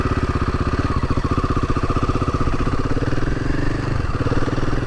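A Royal Enfield Himalayan 450 motorcycle rides along a dirt road, its single-cylinder engine thumping steadily and loud throughout, with a close, continuous mid-range drone and light clatter.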